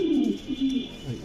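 Pigeons coo softly nearby, low throaty burbling calls repeating over a faint steady background hum.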